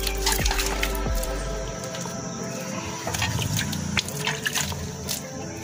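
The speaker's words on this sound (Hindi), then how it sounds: "जो थान है ये अच्छी तरह धो लेते हैं" Water is splashed and poured over a cow's udder while washing it, producing irregular close dripping, trickling and wet squishing sounds with small knocks, no talk.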